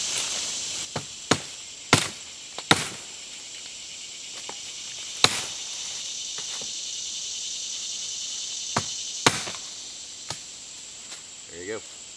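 A wooden spindle for a bow drill fire set is carved by hand: sharp, isolated chopping and shaving strikes at an uneven pace, close and crisp, over a steady outdoor backdrop of chirping insects.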